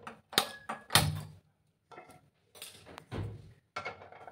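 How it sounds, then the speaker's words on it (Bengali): A metal pan set down on a gas stove, heard as a few close, sharp clanks and thunks with brief pauses between them. "গ্যাসটা অন করে একটা প্যান আমি বসিয়ে দেবো।"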